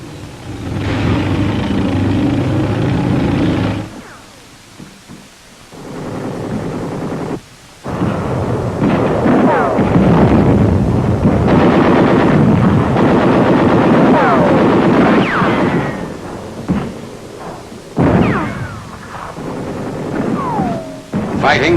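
Wartime newsreel of tanks pacing an infantry division's advance in wooded terrain southeast of Aachen in 1944, loud rumbling engines and bursts of gunfire and explosions, with narration over much of it.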